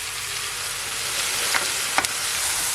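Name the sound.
cow foot sautéing in a pot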